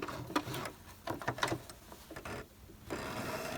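Home sewing machine stitching a seam on an embroidered Advent calendar pouch, a quiet rapid mechanical patter in short bursts that stop and restart, ending in a steadier run.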